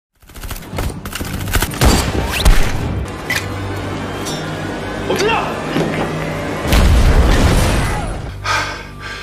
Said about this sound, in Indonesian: Ia bahkan melempar sebuah granat tepat ke arah kontainer tersebut.